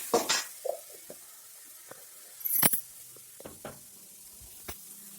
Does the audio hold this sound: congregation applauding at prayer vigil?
no